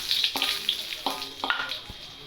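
Dried red chillies crackle and sizzle in hot oil for a pumpkin stir-fry, with several sharp spitting bursts and a faint stirring clatter, close up and without speech.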